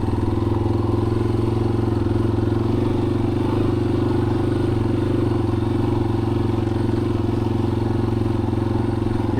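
Motorcycle engine running steadily and loud throughout while riding a rough, rutted dirt track in remote terrain, with a constant low drone and faint clatter of the bike over the ground, no talk.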